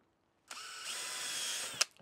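A power drill drives a screw into a PVC window box, a close whirring whine that rises and holds for over a second, then stops with a short clack, no voices.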